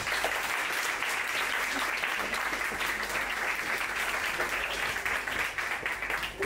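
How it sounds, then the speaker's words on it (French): A conference audience applauds the organisers with loud, continuous, dense clapping that holds steady and starts to thin at the very end. "vous pouvez déjà les applaudir"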